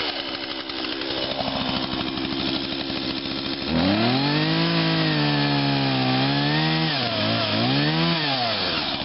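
Chainsaw cutting through a tree, first a rough rattling idle-like chatter, then a loud sustained engine roar with rising and falling pitch as the chain bogs and revs in the wood, heard close with no voices.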